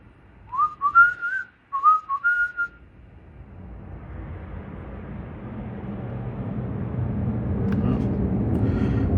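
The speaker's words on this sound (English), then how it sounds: "Military jet just departed from Mobile Regional Airport" Military jet departing Mobile Regional Airport, heard from about three miles southeast as a distant roar that builds slowly and steadily; a few whistled notes from a person come first, before the roar rises.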